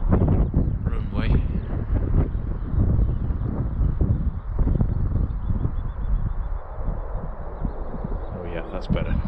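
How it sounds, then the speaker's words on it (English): Wind buffets a microphone across an RC model flying field, a continuous rough rumble and gusty noise that stays loud throughout with no clear voices over it. "The wind's coming in a funny direction today."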